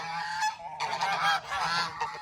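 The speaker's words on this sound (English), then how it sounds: "There are 14 geese right here." A flock of about fourteen farm geese honking steadily, several overlapping calls close by with brief pauses, loud and continuous throughout.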